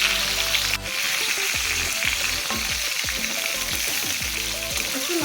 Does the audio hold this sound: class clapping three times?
no